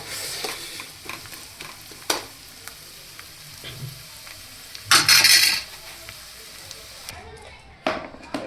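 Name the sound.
onion paratha filling frying in a pan on low heat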